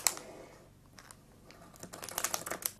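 Scissors snip and crinkle through plastic toy packaging close by, a few quick crisp cuts and rustles, quiet and uneven.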